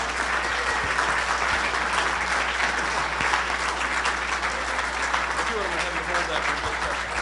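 A large conference audience applauds the JFK assassination researcher Vince Palamara, a dense, steady wash of clapping that fills the whole stretch at even loudness without a break.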